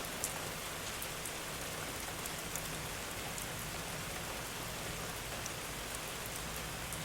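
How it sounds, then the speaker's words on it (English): Steady rain falls outdoors on a hot evening with thunder and lightning around, a dense even hiss of drops pattering on surfaces, close and continuous with no talk. "Hey, can you hear that rain?"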